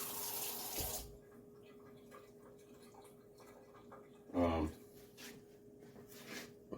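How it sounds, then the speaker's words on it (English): Hot water pours from a tap into an Oster juicer's self-cleaner, a brief splashing burst partway through a quiet, faintly humming stretch. Speech is heard at the start. "So I'm filling up my self-cleaner."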